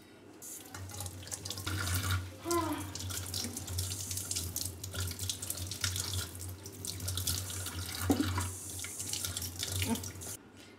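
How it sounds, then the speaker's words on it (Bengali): Potatoes are washed under a running kitchen tap, a steady rush of water filling a sink, splashing and shifting as they are handled, close and continuous for the whole stretch. "এখন আমি আলুটা ভালো করে ধুয়ে নেব।"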